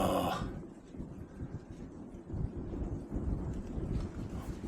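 Wind buffets a microphone outdoors on a day trip with a 1966 Ford 4x4, a low, gusty rumbling that rises and falls continuously with no talk.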